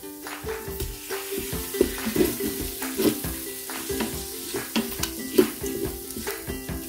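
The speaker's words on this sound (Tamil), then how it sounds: "தக்காளி நல்லா வதங்கட்டும்." Tomatoes sautéing in a pan for South Indian chicken kulambu, a constant close sizzle broken by irregular scraping stirs and occasional louder clinks, with no voices.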